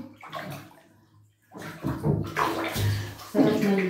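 Water sloshes and splashes close by in a Tokyo bathtub during a soak. The splashes come in uneven bursts, with a short quiet gap before the movement picks up again.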